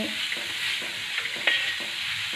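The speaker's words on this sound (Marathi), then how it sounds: "आपण जो मुळा खिसून धुवून घेतलेला आहे ना तो घालून घ्यायचा आणि छान असा या फोडणीमध्ये मिक्स करून घ्यायचा" Grated, washed radish stirred into hot tempering on an iron pan over low heat: a steady broad sizzle with a few soft spatula scrapes and clinks, close and continuous, no voices.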